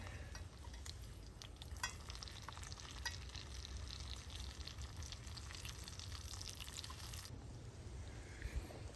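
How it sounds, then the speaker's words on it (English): Bacon coated in brown sugar fries over a Lixada stick stove outdoors at camp, giving a dense, continuous crackling sizzle with scattered pops and a few light clinks near the end. "Okay, time to turn the bacon again."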